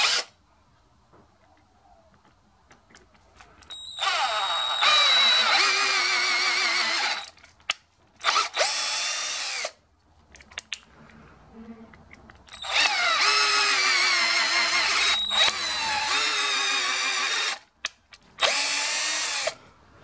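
Power drill tapping threads into metal in a milling machine shop, in several loud bursts of whirring drilling a few seconds each, separated by short quiet gaps, close up with no talk.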